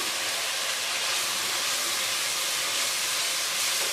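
Carrots fry in a hot pan for chana pulao, giving a steady, even hiss that runs unbroken for the whole stretch, close and moderately loud, with no talking over it.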